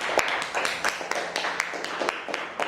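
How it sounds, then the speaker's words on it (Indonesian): A few people clap in a brief, sparse round of applause, the claps sharp and fairly close. "tepuk tangan untuk Naomi dan saya"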